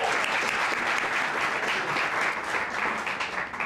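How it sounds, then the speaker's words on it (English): An audience at a fishing derby event gives a sustained round of applause for sponsors, dense and loud clapping filling the room throughout with no break. "Please join us in a final round of applause for our sponsors"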